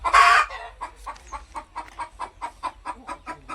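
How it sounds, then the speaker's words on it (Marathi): A young native hen about five or six months old, coming into lay for the first time, gives one loud harsh squawk and then a run of rhythmic, evenly spaced clucks, near and alone. "जेव्हा तलंग पहिल्यांदा अंड्यावर येते तेव्हा एक कर्कश आवाज करते"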